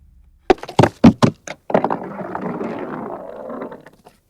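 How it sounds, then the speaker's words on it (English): Glacier ice sample: several sharp, hollow knocks in a quick stuttering row, then a rough sliding, scraping roll that fades out. Close and isolated. "I'm going to take one of the sounds from the sample pack called Ice Slide's Stutter Roll,"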